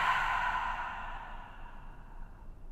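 A slow, breathy exhale during a yoga breathing exercise, loudest at the start and tapering off gradually over a few seconds, close and alone with no talk.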